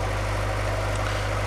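A 27-kilowatt Cummins generator runs in the engine room of a steel hull trawler, giving a steady, close, unbroken engine drone with a deep low hum and no talking.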